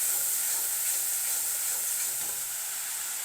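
Spice masala with turmeric sautés in a pan, giving a constant, even hiss of frying with faint stirring, heard alone and at moderate distance.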